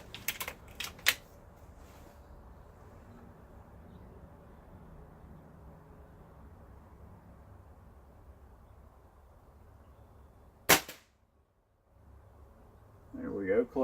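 A .22 Gamo Swarm Maxxim air rifle fires JSB and H&N pellets, each shot a sharp, sudden crack. A few come at the start and one stands alone late on, with quiet room tone between and sounds of handling at the close.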